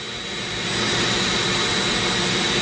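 A Dremel rotary tool spins steadily while carving a zebra wood ring, giving a loud, continuous high-pitched whine with a constant tone that rises slightly in level during the first second and then holds.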